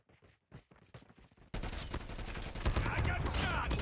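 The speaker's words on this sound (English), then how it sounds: "I got shot!" Automatic gunfire in Call of Duty Mobile during a ranked Hardpoint match: a few sparse shots, then a sudden dense burst of rapid fire that continues loud and close to the end.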